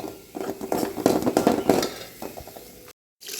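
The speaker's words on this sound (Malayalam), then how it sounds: "ഇത് രണ്ടും കൂടി നന്നായിട്ടൊന്ന് ഇളക്കി കൊടുക്കാം" A spoon stirs onion masala with green chillies, turmeric and coriander powder in a pan, making irregular clinking and scraping strokes up close. A brief silent gap comes near the end, and no one speaks.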